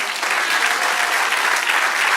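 A church congregation claps for the Lord, a loud, dense and even burst of applause that holds steady throughout the short moment without speech.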